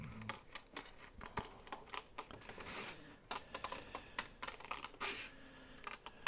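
Scissors snipping freehand through paper to cut out a heart shape, a close, quiet run of short irregular crisp clicks and rustles with no talking.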